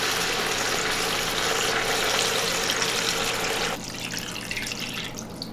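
Tap water pours in a steady, close rush into a pot of pork bones and broken-down chicken carcass, then cuts off abruptly, leaving a quieter, gurgling settle.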